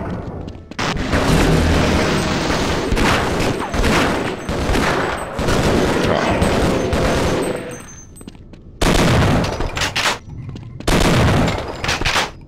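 Bursts of automatic gunfire in the Half-Life video game, loud rapid volleys with short pauses between them and heavy booming impacts, with no talking over them.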